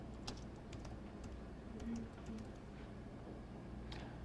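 Typing on a computer keyboard during script writing, scattered quiet key clicks over a faint room hum, with no one speaking.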